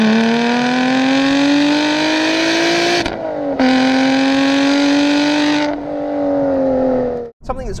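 A supercharged Lotus Evora GT410 Sport engine revs loud and close, its pitch climbing steadily through two long pulls separated by a brief lift, then a third rise before it cuts off, with no talk over it.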